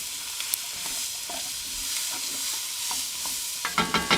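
Spoon stirring and scraping food cooking in a pan, soft sizzling under a run of scraping strokes that end in several sharp taps against the pan, close and moderately loud, no talking.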